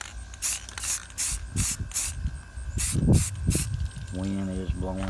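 Spray paint can hissing out light, short bursts outdoors for a faux rust finish, several quick spritzes in a row, fairly close, with a voice talking in between.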